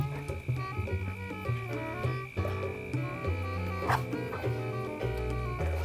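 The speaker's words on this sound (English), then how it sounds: "These dogs are going to kill each other, or they're going to kill me." Two dogs in a garden snarl, yip and bark at each other in a scuffle, close and loud over a steady tonal hum and background music.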